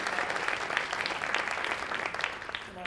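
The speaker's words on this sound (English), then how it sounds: "give just one more round of applause for our amazing 9 expert contributors to this session" A conference audience applauds a panel of session contributors, dense continuous clapping from many people that stays even and moderately loud throughout the short stretch.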